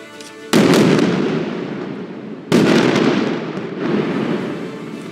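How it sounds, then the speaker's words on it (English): Israeli airstrike hitting a building in Gaza, two heavy booming blasts a couple of seconds apart, each followed by a long rumbling roar of collapse and debris. "So you'll see the building collapses into rubble just a few seconds later."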